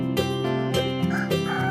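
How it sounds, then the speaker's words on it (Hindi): A cartoon-style rooster sound effect in a village setting, several short, tonal clucking calls repeating in quick succession, clear and close. "मुर्गे के कुकड़कू बोलते समय"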